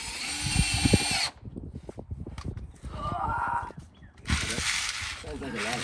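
A power drill driving self-tapping screws whines loudly in bursts, with clattering and knocking between runs and a high buzzing screw-driving sound returning near the end.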